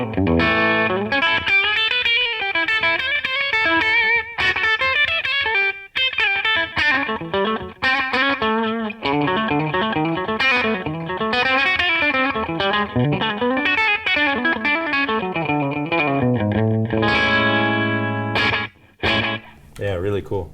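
Electric guitar through a Flashback Delay set to a short double slap with one quick repeat and ducking, played as a continuous lead solo with dense, distorted note runs and bends throughout, loud and close.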